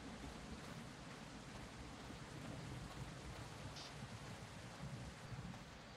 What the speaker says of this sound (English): And it's raining, which means my body temperature is going to drop.